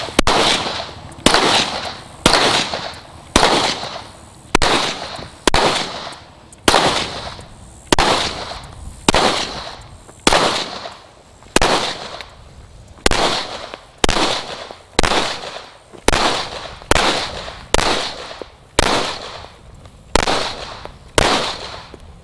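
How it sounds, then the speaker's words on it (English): A SIG P320 pistol fires shot after shot at an outdoor range while the shooter walks, roughly twenty loud, sharp cracks in a steady, evenly spaced rhythm, each with a short decaying tail. "I like the P320 so much, I'm going to shoot it again."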